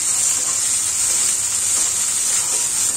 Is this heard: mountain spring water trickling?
no